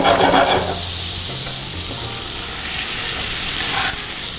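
Steak frying in a pan sizzles steadily and loudly throughout, a dense continuous hiss with a brief louder burst at the start and no talking.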